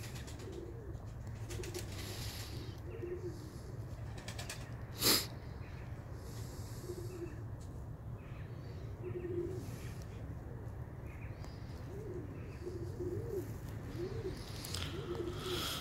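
Iraqi short-beaked tumbler pigeons coo softly in a loft, with low repeated coos scattered throughout and a single sharp snort or sneeze-like burst, under faint background noise.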